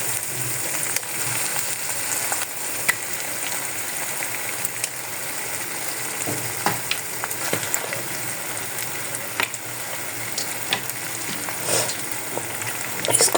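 Desi chicken meat frying in a pan with onion, garlic, ginger paste and spices, a continuous bright sizzle with occasional crackles and pops, moderately close and steady throughout.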